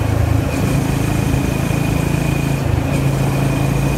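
A Honda GB350S single-cylinder motorcycle engine hums steadily and loudly from start to finish, its low throb unbroken while the bike cruises the Tokyo expressway at night.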